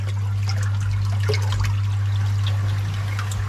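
Water running from a bottom drain into a drum, a continuous trickling, splashing flow over a steady low mechanical hum, close and fairly loud, with no voices.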